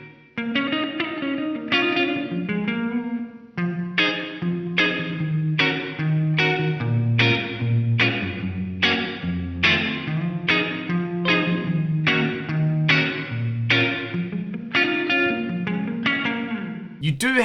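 A guitar run through a Korg A3 effects unit rings out a strummed, rhythmic riff drenched in reverb and chorus, each strike followed by a washing tail, steady and loud with no talking.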